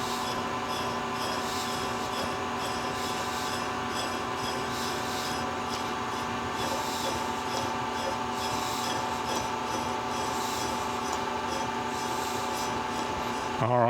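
A nut threading onto a newly machined left-hand Acme lead screw for a Covel surface grinder, a steady close rubbing, rasping drone that runs unbroken throughout with no talk.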